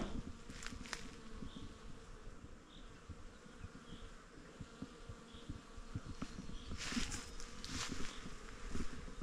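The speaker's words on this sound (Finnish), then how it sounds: "Saanko mä tätä pörinää tätä talteen?" Bees and other pollinating insects buzz steadily and densely outdoors, a continuous close hum with individual insects passing nearer now and then, no talking.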